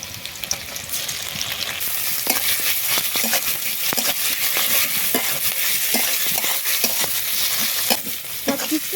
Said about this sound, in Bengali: তেল গরম হয়ে গেছে তেলের মধ্যে দিয়ে দিচ্ছি পেঁয়াজ কুচি পাঁচ ফোড়ন কুচো চিংড়ি